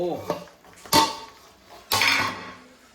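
The lid is lifted off a pot of homemade biryani after its dum cooking, with a soft metallic scrape followed by two sharp clanks of metal cookware close by.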